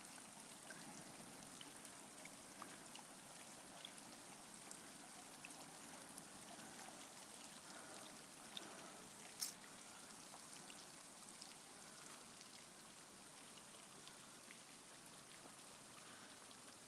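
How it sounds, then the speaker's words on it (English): The Rhine river flows in Cologne, a faint, steady wash and trickle of water heard from a walking path, soft and continuous with a few small splashes and no talking. "Listen to the water."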